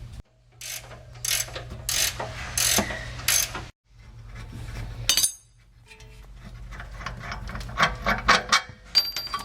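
A wrench works loose shock absorber bolts on a Land Rover Discovery, giving repeated bursts of quick ratcheting clicks close up, with short pauses and metallic clatter between turns.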